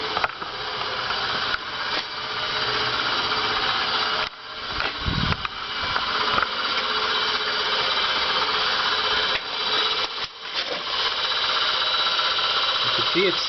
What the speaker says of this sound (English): overall it seems to work, seems to do the job, and it's spinning that motor